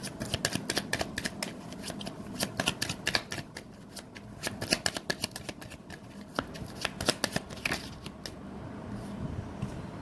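Tarot cards being shuffled for one more draw, a dense run of quick riffling card snaps and flutters at close range that trails off near the end, with no talk over it.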